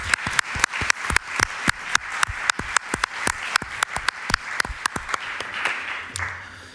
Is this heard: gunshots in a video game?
no